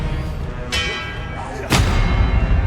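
An Expelliarmus spell goes off in Hogwarts Legacy, cast on PS5. Two sharp bright bursts land about a second apart, the second followed by a heavier low rumbling boom amid combat ambience.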